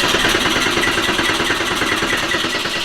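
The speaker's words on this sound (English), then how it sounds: "Crank it a couple more seconds" Porsche 964 flat-six engine cranking on its first start, a steady, loud mechanical churn with rhythmic clatter that holds evenly for the whole stretch, no voices.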